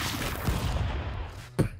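Gunfire in the stick-figure brawler game Stick Fight: a dense, busy burst of game shots fills the clip, ending in one sharper bang near the close.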